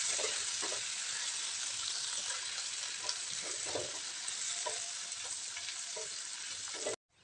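Curry leaves sauté in a hot pan for thuvaiyal, giving off a continuous close sizzle with soft stirring scrapes and taps, steady and even until the sound cuts off abruptly at the end.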